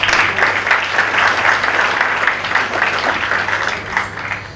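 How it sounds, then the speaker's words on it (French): An audience applauds loudly for newly arrived guests, a dense, steady burst of clapping from the room, with no one speaking over it. "je voudrais qu'on les applaudisse très fort"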